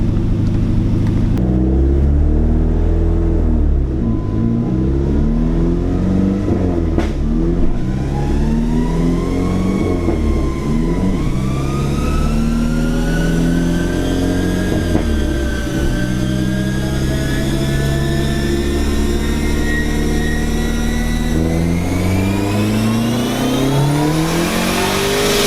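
A Dodge SRT car engine revving on a dyno, loud and close, climbing through the gears in long rising pulls with brief drops between shifts, ending in a high sustained rev.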